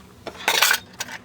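Tiny dollhouse silverware clinks as it is handled, a few light metallic chinks and one brighter rattle near the middle, close and quiet with no talking.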